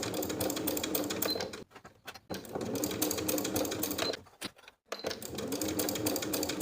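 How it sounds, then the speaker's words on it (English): A sewing machine runs in bursts while basting cardigan ties in place along the front edges, with a steady mechanical whir, a couple of short pauses near the middle, then a restart. "Baste each of your ties in place."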